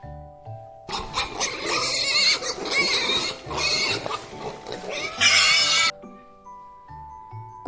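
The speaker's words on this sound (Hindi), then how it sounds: "सुअर, सुअर को इंग्लिश में कहते हैं पिग।" A pig grunts and squeals in a loud, continuous run of harsh oinks lasting several seconds, close and alone, with a voice speaking briefly before and after.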